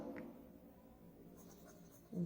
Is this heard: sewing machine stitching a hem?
no